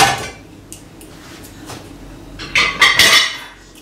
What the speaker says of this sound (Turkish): öğleden sonraki bulaşıkları da koyacağım.